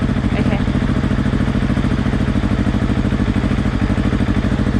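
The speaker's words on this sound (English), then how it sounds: "you hear the bike revving" A motorcycle engine idling and revving close by, with a steady, rapid throbbing pulse that rises slightly in pace. The bike is being ridden by a learner.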